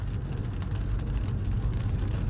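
Rain falls on a highway in Halvad, a steady dense hiss with low rumble that may come from passing traffic, continuous and moderately loud with no voices.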